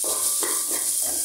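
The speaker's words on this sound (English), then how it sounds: "Kita tumiskan dia sampai dia agak layu eh." Ingredients for Thai pineapple fried rice sauté in a pan with a continuous loud sizzle and a few rhythmic stirring strokes, and no talking.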